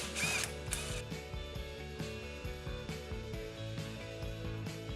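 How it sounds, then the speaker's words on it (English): A hand ratchet turns round head bolts and nuts off the brush on a John Deere baler's net wrap cutoff knife, giving repeated close, crisp clicking bursts in a steady working rhythm with no talk. "remove the brush from the cutoff knife by removing the 4 round head bolts and"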